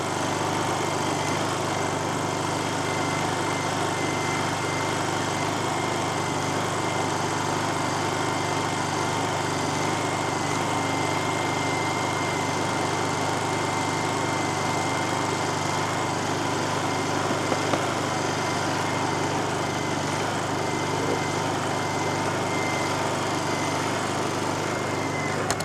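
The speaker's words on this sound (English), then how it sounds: "That's as loud as this carburetor" A Honda 2000i generator engine runs steadily at close range, a loud, even buzzing drone with no change in pitch or level and no voices.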